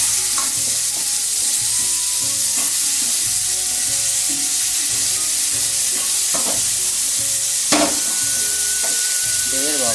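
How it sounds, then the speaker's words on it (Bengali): Potatoes frying in a pan as they are browned for a vegetarian meal, a steady loud sizzle with a few scraping stirs and clinks throughout. "আলুটা আগে একটু ভেজে নেব লাল লাল করে"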